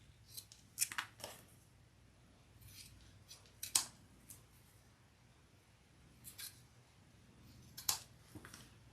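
Scissors trim fabric bag connectors in a quiet room, producing several crisp, close snips in small clusters separated by pauses, with faint rustling in between.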